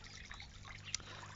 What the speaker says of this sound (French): la petite cascade avec le jar.